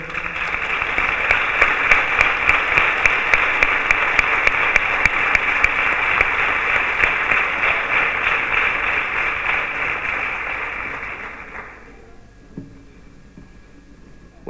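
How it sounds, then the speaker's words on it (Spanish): An audience at a book and festival poster presentation honoring Dolores Otero applauds the honoree's family, a loud sustained wash of clapping that holds for about ten seconds and then fades to quiet. "Así que un aplauso también para ellos."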